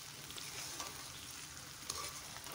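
Jujubes cooking down with finely chopped jaggery in a pan give a steady, close sizzle and bubbling, with a couple of louder scrapes or clacks as the mixture is turned over.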